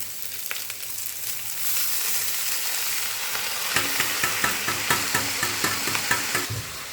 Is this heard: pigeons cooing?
no